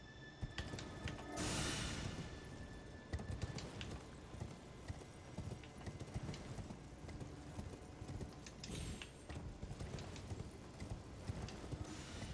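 Horse hooves clip-clop in the video game Elden Ring, a quiet, steady run of rhythmic hoofbeats mixed with soft mechanical clatter, heard alone.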